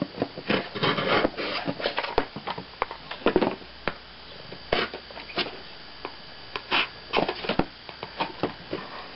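Close, uneven scraping and rasping as a square hole is cut by hand for a USB cord in a homemade iPod dock, short rough strokes in irregular rhythm with brief gaps.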